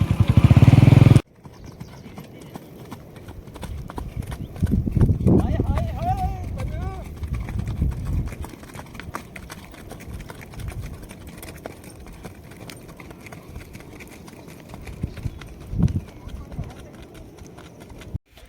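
Hooves of Marwari horses on a long ride along roads near Bharatpur clop in a loose rhythm under ongoing talk, with a brief whinny-like sound and some engine noise in the background.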